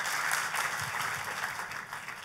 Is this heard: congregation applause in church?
yes